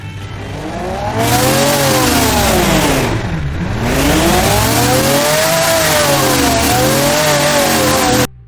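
A 2157-horsepower quad-turbo van engine in BeamNG.drive revs loudly and continuously, its pitch climbing, dipping sharply and climbing again several times before cutting off abruptly.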